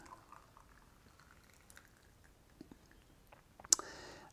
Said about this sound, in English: pour this away, and start to warm up our teaware a little bit.